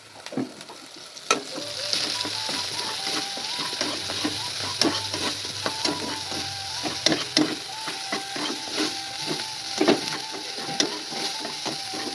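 Ground shrimp paste fries in a pan over a village hearth, a constant low sizzle punctuated by repeated sharp scrapes and taps of a spatula stirring, close by with no voices.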